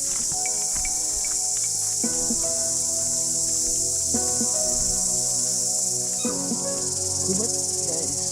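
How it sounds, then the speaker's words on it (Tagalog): Loud, steady chirping and buzzing of forest insects near a waterfall, a dense high-pitched drone with pulsing trills layered over it, continuous and close. "Yun guys, yung insekto yan."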